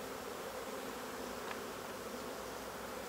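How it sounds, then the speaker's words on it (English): Honey bees buzz steadily around beehive frames in a queenright finisher colony, a close, continuous droning hum with no speech. "I'm just gonna smoke these a little bit just to get some of these bees off"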